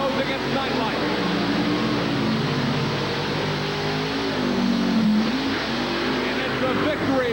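Monster truck engines roar continuously at a race start in West Lebanon, New York, including the Equalizer Chevrolet against Nightlight, a loud sustained drone with rising revs over crowd and arena noise.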